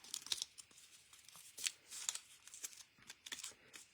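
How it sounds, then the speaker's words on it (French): Paper being creased and folded by hand for a decorative frame, a series of quiet crisp rustles and short scraping strokes in an otherwise still room. "On marque bien les plis."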